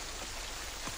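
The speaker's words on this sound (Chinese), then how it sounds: "外面咁大雨，淋得耐会病嘅。" Heavy rain falls outside as a dense, even hiss of drops lasting about a second, with nothing else standing out.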